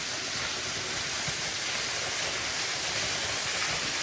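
A waterfall in Khatav taluka, Satara, pours as a dense, steady broadband roar that stays even throughout, with no talk over it.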